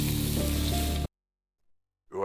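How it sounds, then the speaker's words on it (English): Loud, steady sizzling of garlic frying in a hot pan at a Philippine street food stall, cutting off abruptly, then a brief quiet before the sizzle returns. "A sizzling pan first receives a portion of garlic,"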